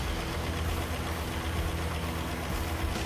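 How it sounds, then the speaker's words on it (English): A dune buggy's engine, a rebuilt replica of a game vehicle, runs steadily at idle with a constant low rumble, close and continuous. "Further, I set the valves and started the engine."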